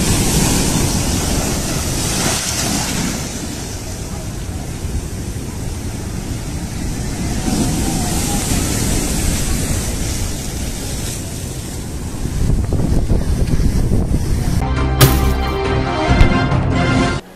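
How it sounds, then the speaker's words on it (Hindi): As Cyclone Yaas makes landfall from the Bay of Bengal, strong winds roar continuously over high, crashing sea waves. The dense, loud noise has no voices in it and swells near the end. "इस दौरान तेज हवाएं चल रही हैं। समंदर में ऊंची ऊंची लहरें उठ रही हैं"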